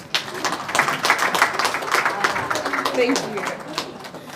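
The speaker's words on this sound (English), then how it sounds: "A round of applause for Ansu, please." A seated audience claps for Ansu Kamara at the launch of a report on violence against women in politics. The clapping is brisk and steady, close and moderately loud, with voices mixed in.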